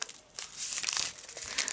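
A plastic tea packet holding oolong is crinkled and handled up close, giving irregular bursts of crisp crackling with short pauses between.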